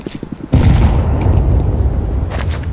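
A grenade blast in CS:GO hits hard and booms loudly, then a low rumble rolls on for about two seconds, with a few faint ticks before it.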